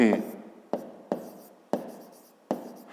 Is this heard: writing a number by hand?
yes